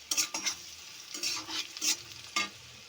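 Onion, green chilli and spice masala sizzle in a pan while a spoon stirs it in several short scraping bursts, close and clear, with no talking.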